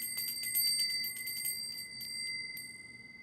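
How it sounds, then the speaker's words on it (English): A bell rung at the start of a live spiritual session gives several bright, sustained metallic tones with repeated strikes early on, then rings out and decays, fairly quiet with no talk. "I'm going to ring the bell."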